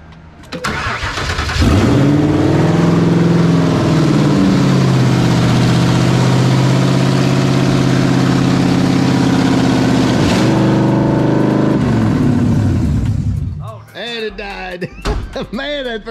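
Supercharged Coyote-swapped Mercury Marauder V8 with no exhaust fitted cranks, fires and settles into a loud, rough idle, then blips the throttle once before shutting off, after which people talk nearby.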